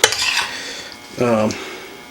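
Thickened Rotel mac and cheese scooped into a bowl: a sharp utensil clink, a soft scraping stretch, then a brief ringing clatter against the dish, close and alone.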